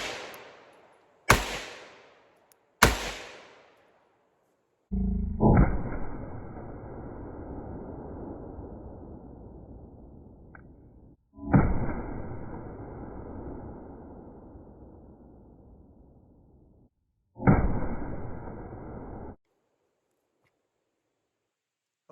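Pistol shots from a Sig P365 X Macro Comp ring out as a few sharp, loud cracks close together, followed by longer stretches of rushing noise, with no talk.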